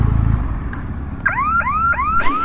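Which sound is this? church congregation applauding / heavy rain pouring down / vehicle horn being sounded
vehicle horn being sounded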